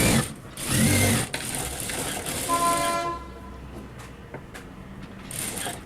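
A sewing machine stitches the lining piece of a blouse in short mechanical runs, with a whirring burst early on and quieter clicking stretches after it, close and moderately loud.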